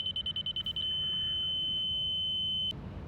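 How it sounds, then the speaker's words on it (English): A laser level receiver beeps in a rapid series of short electronic tones, then settles into a steady continuous high tone that cuts off abruptly, over a constant background rumble. "The fast-paced beep will mean you are too high, and the low-paced beep will mean you are too low."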